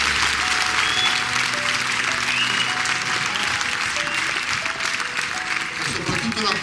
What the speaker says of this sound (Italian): ho sentito un applauso alla festa degli Sci Club